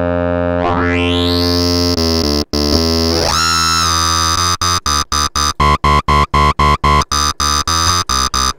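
Dense, buzzing synth tone from filters ring-modulated against each other with feedback, giving metallic overtones, sweeping up, then chopped into a rapid stuttering run of short, loud bursts.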